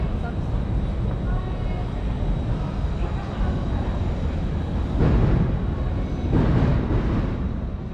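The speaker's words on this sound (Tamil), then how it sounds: "மேலே பார்த்தீங்கன்னா உங்களுக்கு கேட்குது ட்ரெயின் சவுண்டு" A steady low rumble of a train passing overhead, with louder surges of rolling noise, while a voice talks over it, at Borough Market in London.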